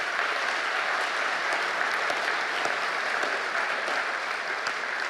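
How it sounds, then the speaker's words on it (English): Guests at the Global Gala for Rhinos 2022 conservation fundraiser give a steady, even round of applause, dense many-handed clapping filling the room without a break and without speech over it. "Karen deserves a big round of applause as well"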